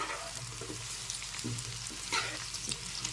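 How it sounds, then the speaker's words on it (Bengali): Radish and potato pieces frying in oil after onions, a soft continuous sizzle with light stirring scrapes, close but quiet, with no talking. "মূলো আর আলুটা একটু ভেজে নিতে হবে"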